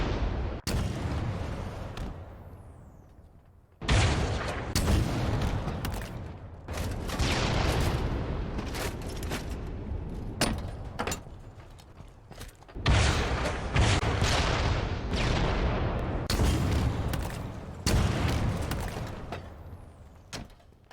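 M41 rocket launcher in Halo Infinite firing repeatedly, each launch a loud sharp whoosh-boom followed by a booming explosion, several shots in a row with brief quiet gaps between them.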